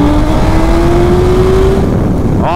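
A 2024 KTM 1390 Super Duke and a BMW M1000R accelerate hard from a standing start, with a loud, close engine note climbing steadily in pitch before a sudden shift near the end.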